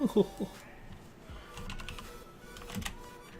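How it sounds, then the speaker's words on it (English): Keys clack in quick irregular bursts on a computer keyboard during ARMA 3 mission editing, fairly quiet and close, with someone talking intermittently over the typing. "Y'all get to watch me typing in."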